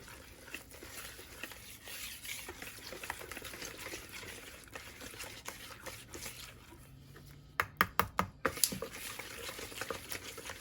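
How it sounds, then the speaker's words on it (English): Flour being whisked into a mixture for strawberry crumble bars, a steady scraping and stirring that runs throughout at close range, with a short burst of sharper clacks near the end. "So I'm just going to whisk this in."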